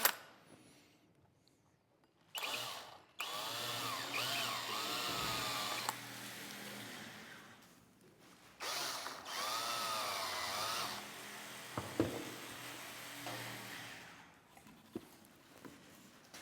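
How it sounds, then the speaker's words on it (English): A power tool carving a pumpkin whines in bursts of a few seconds each, its pitch wavering as it works, separated by quieter pauses, fairly distant and soft. "don't underutilize your power tools."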